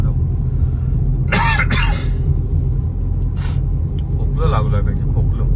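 A person coughs a few times, with short harsh bursts close by inside a car driving on a mountain ghat road, over a steady low engine and road rumble.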